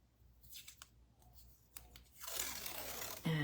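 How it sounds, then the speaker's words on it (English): A strip of washi tape is torn off, with soft crinkling handling noises followed by a rising, rasping tear and a short sharp snap at the end, close and quiet. "So I've got my washi tape here."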